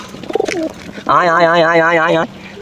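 Pigeons in a pigeon loft where king pigeons are kept give a single loud, close, warbling coo lasting about a second, preceded by a short softer sound.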